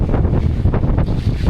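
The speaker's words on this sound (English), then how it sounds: "How windy that is." Strong wind buffets the microphone on an exposed stretch of coast, a steady loud roar with gusty surges throughout and no voices.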